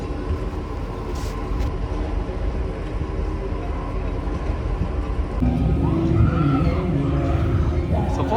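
Sky ride carnival attraction at a state fair, a steady rumbling mechanical drone with clattering and rolling noise that swells louder partway through, continuous throughout.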